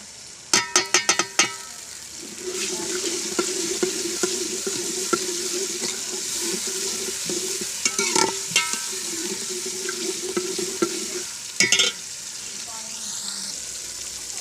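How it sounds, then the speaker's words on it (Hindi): Tomatoes go into a pan of fried onions and garlic for potato and pea curry: a few sharp clatters at the start, then a continuous close sizzle with occasional stirring knocks and scrapes. "प्याज और लहसुन भून लेने के बाद अब हम इसके अंदर टमाटर शामिल करेंगे।"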